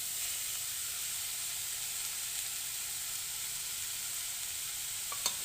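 Cabbage sautéing in a pan for kodo millet noodles gives a soft, continuous sizzle with faint steam hiss, fairly quiet and steady, with a single small clink near the end.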